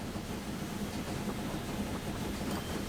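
A train rolls steadily through a station in the Transport Fever 2 game, a continuous low rumble with faint rhythmic clatter and no pauses.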